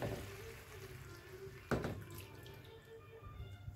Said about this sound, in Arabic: نحط شويه ميه كمان